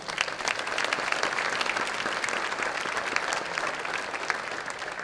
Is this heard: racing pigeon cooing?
no